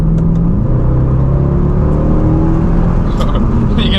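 A 2012 Mercedes C63 AMG downshifts and accelerates hard, its engine note rising into a loud, steady roar with a deep rumble, up close and dominating throughout.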